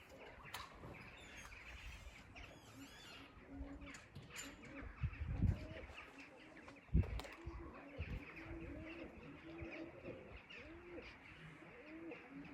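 Pigeons cooing repeatedly in soft rolling calls, with a few chirps and occasional wing flaps amid outdoor background noise.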